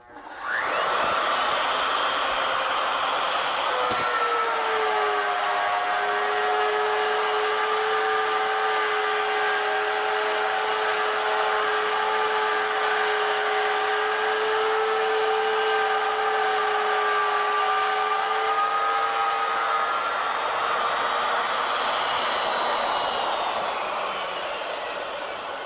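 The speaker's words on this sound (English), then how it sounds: "so that the router bit's cutting right down to 0 on our workpiece" A router bit cuts a wooden workpiece with a loud, steady motor whine that holds for about twenty seconds after spinning up, then winds down.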